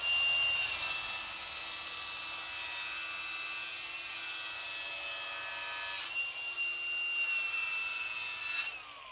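Metal edges are deburred before MIG welding, giving a quiet, steady, whirring scrape with a thin high whine. It pauses briefly twice near the end.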